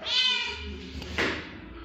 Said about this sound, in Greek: Αυτή είναι η γάτα μου.